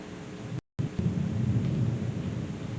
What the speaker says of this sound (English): it just started storming here, Capricorn. So if you hear thunder, that's what's going on